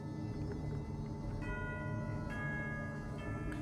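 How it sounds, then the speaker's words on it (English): Bell tones in the Genshin Impact video game, several soft ringing strikes with lingering sustained pitches layered over a low steady game ambience, fairly faint. "That's the sound of a bell."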